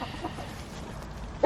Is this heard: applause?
no